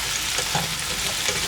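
Penne pasta stirred into a sauce in a hot pan, giving a steady close sizzle with soft scraping stir sounds throughout and no talk.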